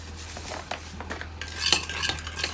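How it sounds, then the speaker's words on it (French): Spoon stirring brown sugar into a mixture in a bowl, giving soft scraping clinks of metal against the dish, fairly close and quiet, with a few brighter taps near the end and no talk. "On mélange le tout."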